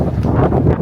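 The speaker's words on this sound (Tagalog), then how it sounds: "Ang hangin na yun, oh." Steady wind on a beach in Boracay, rushing broadband and buffeting the microphone continuously for under a second, with no clear voices over it.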